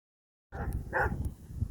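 After a moment of silence, a dog barks once nearby, a short sharp yelp standing out against low background noise.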